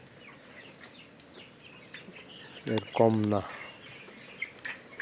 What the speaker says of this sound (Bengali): মুরগিগুলো হাঁপাইতেছে